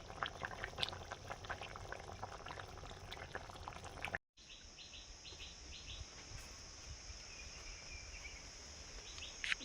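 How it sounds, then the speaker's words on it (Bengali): Water bubbles at a gentle boil in a pot holding fish and lentil dumplings, a quiet, steady bubbling with light clicks, briefly cutting out midway, while insects and birds chirp faintly outdoors. "জল ফুটে গেছে, বড়ি আর মাছ একসঙ্গে দিয়ে দিচ্ছি"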